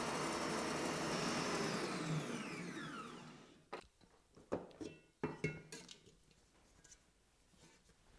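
An electric mixer whips egg whites at maximum speed for a gluten-free chocolate mousse, a loud steady whir that stops midway and gives way to soft clinks and taps of bowl and utensils.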